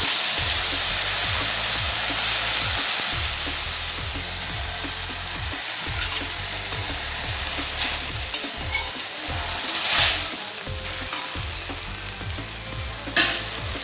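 Water from thekera, dried sour fruit, is poured over fried fish in a hot pan, and the oil hisses into a loud rushing sizzle that bubbles on and gradually eases, with occasional sharper spits.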